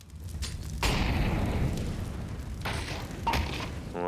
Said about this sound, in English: it will be a Molotov going deep in towards the apartments